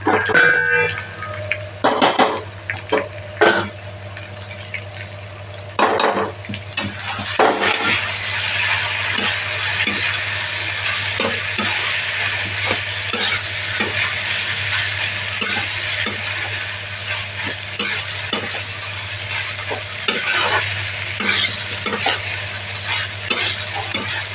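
Bharali ghonto is stirred in a sizzling pan, the spoon scraping and clinking against the metal in repeated strokes over a constant frying hiss.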